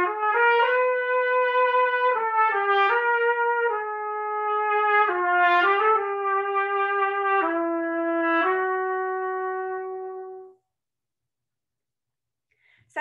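The main theme from section 1 of Otto Ketting's Intrada rings out as a single sustained brass-like melodic line of held notes that step gradually downward, clear and alone before fading into silence.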